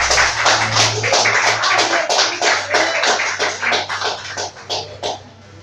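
A church congregation claps for the Lord, a dense patter of many hands with a low steady hum beneath, fading toward the end.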